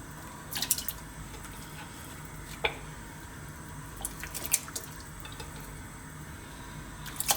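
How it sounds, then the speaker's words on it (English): Pork ribs drop into a big pan of water heating on the stove, making a few scattered splashes and drips over a low steady hiss, with quiet gaps between them. "I've got a nice big pan here of water. The heat is on. We're going to drop in our ribs."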